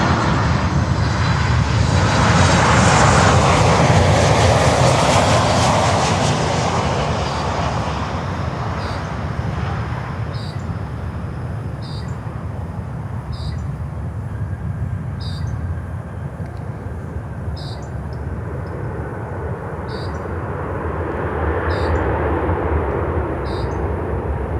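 A heavy jet landing on runway 9 at Miami, a loud, broad engine roar that swells over the first several seconds, then eases into a steady, sustained rumble with no voices.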